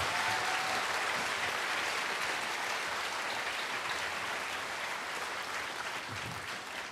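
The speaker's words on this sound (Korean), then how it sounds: "여러분 다시 한번 큰 박수 부탁드립니다." Church congregation applauding loudly and steadily at an evening joint worship service in Seoul, a dense sustained wash of clapping that holds for the whole stretch and fades only slightly toward the end.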